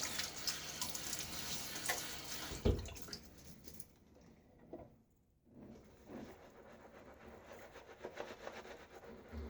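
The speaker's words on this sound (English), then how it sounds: "let's get my face wet again before we start putting the lather on" Water splashing in a sink as a face is wetted before shaving, steady close running and sloshing with a short near-silent pause midway, then more splashing.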